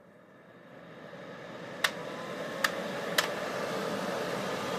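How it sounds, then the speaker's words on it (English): An antique General Electric bonnet hair dryer blows a steady, broad whooshing hiss that slowly builds in loudness, broken by three faint, sharp clicks partway through. "This is the General Electric hair dryer."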